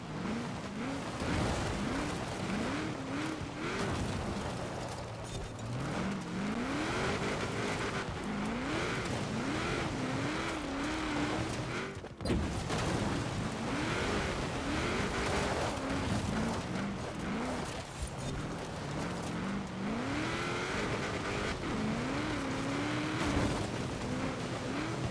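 A car engine in Forza Horizon 4 revs up and down again and again through repeated gear shifts, a loud, continuous drone with brief dips and no voices.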